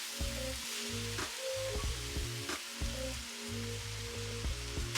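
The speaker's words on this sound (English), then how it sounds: "we're just gonna add some olive oil, use however much you like, or you could also just do this without it. And then we are going to cook down the veggies." Vegetables sizzling in olive oil in a pan while green soup veggies cook down, a steady crackling hiss with soft intermittent clinks and stirring, fairly close, with no voice present.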